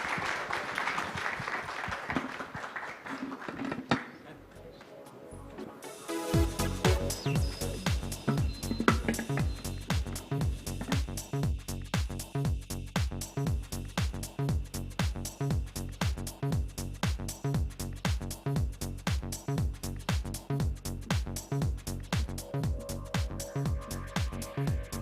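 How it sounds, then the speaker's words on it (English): Audience applause follows a summit panel, a dense burst of clapping that swells and then holds steady and loud for a long stretch after a short spoken introduction. "Huge round of applause, please."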